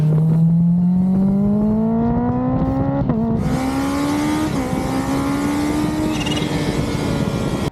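A Kawasaki Ninja H2 motorcycle accelerating hard on an open Australian road, a loud, close engine note climbing steadily through two quick gear changes, with wind roar building behind it.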